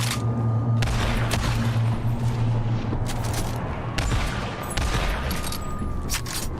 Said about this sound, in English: Why are you shooting at me, bro?